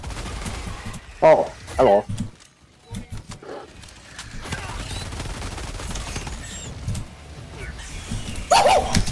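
Heavy anti-tank rifle shots in the co-op shooter game Helldivers, a few loud isolated blasts spaced apart amid battle noise, with a player talking over them.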